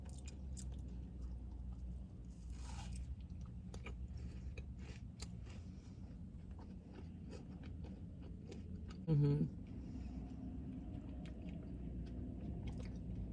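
Someone bites into a Crumbl Snickers cookie and chews it close to the mic, with soft crunching and mouth sounds over a low background hum.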